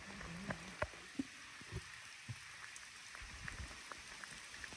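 Rain falls during a trek to the Alang, Madan and Kulang forts in Maharashtra, a faint steady patter with scattered soft drops tapping nearby surfaces and no voices.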